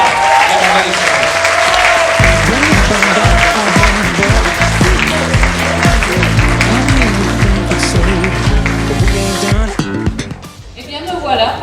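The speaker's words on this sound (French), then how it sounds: "Vous pouvez encore les applaudir, c'est des gens qui donnent de leur temps pour faire vivre la banda des soirées." A crowd claps for banda musicians at a twentieth anniversary celebration, with sustained, dense applause carried along by brassy band music and rhythmic beats. The clapping thins out toward the end, and a few voices mix in.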